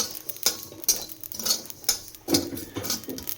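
Poppy seeds and cumin are stirred lightly in a hot pan, producing close, irregular metallic taps and scrapes of a utensil against the pan over a faint hiss.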